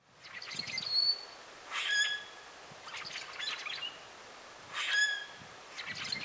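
Rusty blackbirds in spring just back from migration, giving repeated squeaky, creaking calls in bursts roughly a second apart, moderately distant over a quiet outdoor background.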